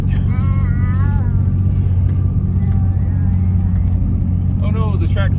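An off-road vehicle grinds through deep snow ruts on a winter wheeling trail, its engine a steady loud drone throughout, with voices talking over it.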